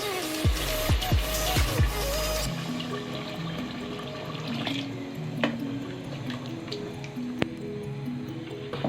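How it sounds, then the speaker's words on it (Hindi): Water is poured into a pan of browned beef and pea curry with potatoes, giving a loud sizzling splash at first that settles into a steady, quieter bubbling and simmering. "अब हम इसमें पानी ऐड करेंगे"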